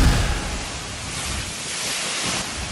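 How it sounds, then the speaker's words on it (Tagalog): Strong gusting wind during a pre-dawn storm in a village, rattling and buffeting corrugated metal roof sheets, heard as a loud continuous roaring rush with dense broadband noise and no voices. "Sa lakas ng hangin, tila kinakalampag nito ang mga yero."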